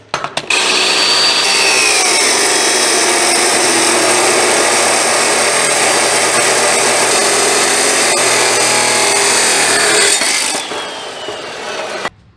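A power saw cuts a metal piece for a scratch-built rack and pinion on a 1940 Chevy coupe, a loud, steady whine running about ten seconds before tapering off.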